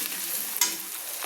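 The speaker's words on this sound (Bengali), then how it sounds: "আমি পেঁয়াজগুলো কি সুন্দর করে দেখুন লাল লাল করে আমি ভেজে নিচ্ছি।" Onions frying in a pan while being stirred for chicken do pyaza, a steady close sizzle with a sharp scrape of the spoon near the middle, no talking.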